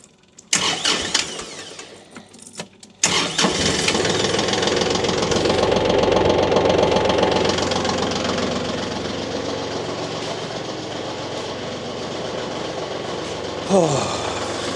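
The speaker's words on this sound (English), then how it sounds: "Let the tractor run for a second." A tractor engine cranks and catches after a couple of tries, then roars up and settles into a steady, loud, rough-knocking idle that runs on close by.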